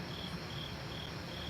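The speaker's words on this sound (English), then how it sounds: "You hear crickets?" Steady cricket chirping fills the background, a continuous high trill with no voices, even and moderately loud throughout.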